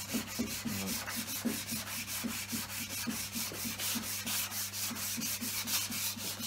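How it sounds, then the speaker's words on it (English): Sandpaper rubbed by hand over reclaimed timber for a shoe box coat stand, a steady rhythmic back-and-forth scratching with regular strokes, close and fairly quiet, no talk. "Just give it a nice rub with a sandpaper and it should come out lovely."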